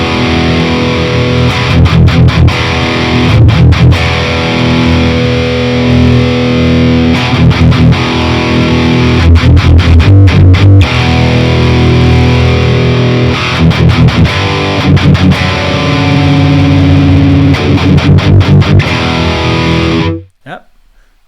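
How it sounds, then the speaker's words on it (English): Distorted electric guitar through a Bulldozer amp simulation chugs loud riffs with a clean booster pedal switched on and off, the tone shifting between passages before cutting out abruptly near the end. "The booster is a clean boost which adds or cuts highs and lows"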